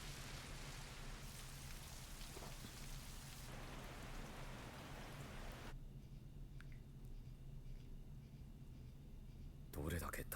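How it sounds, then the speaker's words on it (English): Steady rain falls during a cold, rainy anime scene, a continuous hiss of drops that shifts level between cuts. "The weather is extra cold and rainy."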